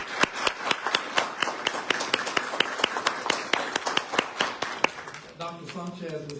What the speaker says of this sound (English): was clapping loudly